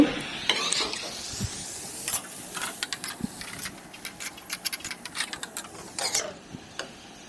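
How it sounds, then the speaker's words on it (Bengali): Pointed gourd and potato pieces being stirred in a frying pan, giving a run of scraping, clicking strokes against the pan with short bursts of sizzle, fairly close and moderately quiet, with no talking. "এরপরে পটল আর আলু ভালোভাবে নেড়ে চেড়ে নেব"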